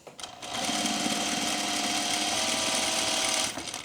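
A sewing machine runs steadily at high speed for about three seconds, stitching a stretched elastic waistband with firm pressure on the presser foot. The whirring is loud and close, starts abruptly, and stops cleanly.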